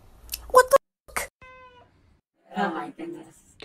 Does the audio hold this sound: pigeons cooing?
no